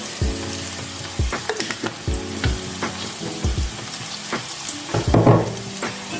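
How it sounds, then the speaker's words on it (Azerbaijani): Onion, potato and tomato fry in oil for an Azerbaijani meatless soup, crackling and sizzling close up while a utensil stirs and scrapes the pan in short repeated strokes. "Soğan, kartof, tomat yaxşı yağda qovrulsun."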